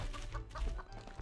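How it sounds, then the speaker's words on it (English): Chicken clucking in the Family Guy video game, a few short fowl clucks at moderate level over low game background noise, with no talking. "A chicken?"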